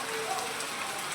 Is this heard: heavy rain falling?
yes